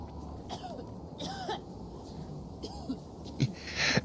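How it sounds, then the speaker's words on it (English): Characters in the video game Medieval Dynasty cough and clear their throats in a few scattered, short bursts over a quiet background hum. "As you can hear, there's a bunch of new coughing and sneezing animations and sounds."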